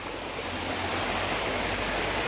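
Waterfall deep in the Mayurbhanj hill forest, a steady broadband rush of falling water that stays loud and even throughout with no pauses, close by, and no voices over it.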